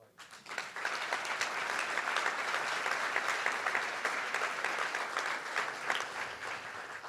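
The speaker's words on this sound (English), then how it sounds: "we should actually also give a round of applause to the people who, frankly, are in this room who've made it happen" Applause at a film festival opening night swells up within the first second and holds as a full, steady round of clapping from a large audience.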